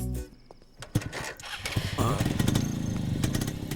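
A motorcycle engine in an Indian action film scene starts with a thump and then runs at a steady, moderately loud revving drone, with some background sound mixed in.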